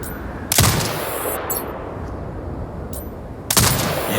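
Turret machine gun fire in Sniper Ghost Warrior Contracts 2: two sharp, loud bursts about three seconds apart, each a cracking report with ringing, metallic tails over a steady background hiss.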